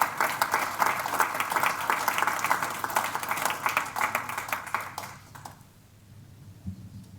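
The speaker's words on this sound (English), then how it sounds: "Ladies and gentlemen, please give them a round of applause." An audience at a business forum applauds, a moderate, fairly distant wash of clapping that holds for about five seconds, then fades out into near silence.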